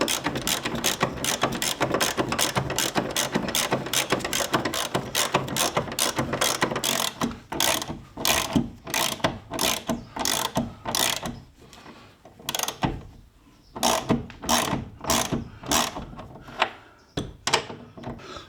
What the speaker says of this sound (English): we've got to do them back up with a ratchet